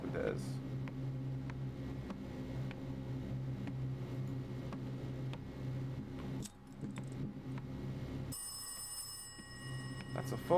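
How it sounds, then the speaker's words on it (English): A telephone in a horror video game rings near the end of the clip with a bright, ringing tone. Before it there is a steady low hum along with jangling and clattering sounds. "That's a phone."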